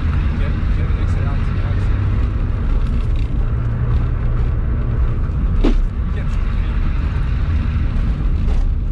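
A car accelerates hard on a track, a loud, steady engine roar filling the whole stretch with a brief burst partway through, heard from close inside.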